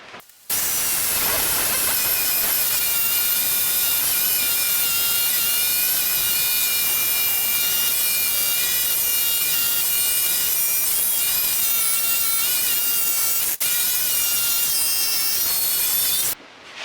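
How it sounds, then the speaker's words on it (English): A jigsaw fitted with a metal-cutting blade saws steel tubing for backyard roller coaster wheels, giving a loud, steady rasping buzz with ringing metallic overtones that runs unbroken for about sixteen seconds. "I'm going to go back to using just a plain old jigsaw with a metal blade."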